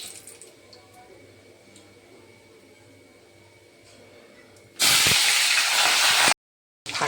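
Cauliflower frying in hot oil in a home kitchen gives a faint low sizzle at first, then a sudden loud, hissing burst of spattering that cuts off abruptly before resuming briefly, with speech around it.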